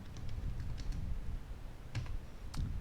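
Code is typed on a computer keyboard in a few quick, faint clicks and taps, close by over a low background hum, with no talking.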